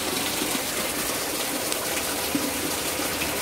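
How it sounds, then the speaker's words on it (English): Floodwater gushes during a storm in a steady, dense rush of water, loud and continuous from start to end with no voices. "Look at that. It's flooding."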